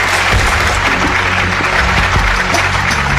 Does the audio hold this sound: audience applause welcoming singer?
yes